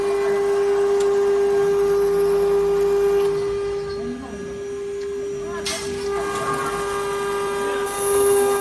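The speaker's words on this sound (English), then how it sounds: "This is also cutting acrylic sheets." A CNC machine cutting acrylic sheets in a workshop gives off a steady mechanical whine with a strong constant tone, with hissing and intermittent clattering bursts layered over the hum throughout.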